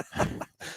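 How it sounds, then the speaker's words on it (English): A brief, fairly quiet throat clearing by a man, two short raspy bursts in under a second, close to the microphone. "Clear my throat."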